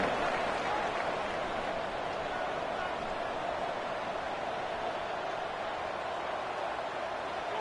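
A football stadium crowd waits for kickoff, making a loud, steady roar of cheering and noise that continues without a break.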